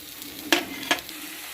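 Spices such as salt, Kashmiri chilli powder and meat masala frying in a pan for Bengali-style doi chicken, a steady low sizzle broken by two sharp spoon scrapes.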